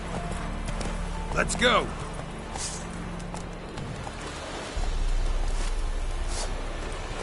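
Horse hooves clip-clopping at a steady run in The Witcher 3, continuous under a shouted voice and background game ambience.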